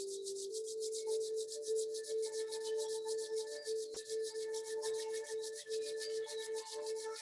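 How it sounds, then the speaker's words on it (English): Palms are rubbed together during a meditation and breathing session, making a fast, rhythmic, close brushing rasp that repeats evenly over a soft, steady background tone. "rub your palms"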